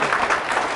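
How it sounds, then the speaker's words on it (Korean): A lecture hall audience breaks into brief applause, a dense burst of clapping from many hands at close range, alone without speech for under a second. "박 실장을 위해서 박수"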